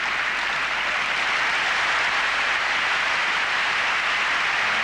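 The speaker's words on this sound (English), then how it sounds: "Applause rains down for what has been a superb display." Sustained crowd applause at a 1989 European Figure Skating Championships ice dance medal ceremony, a dense, even wash of clapping from a large arena audience filling the whole stretch without pause.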